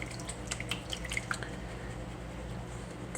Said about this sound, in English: take some water back in, agitate it really good.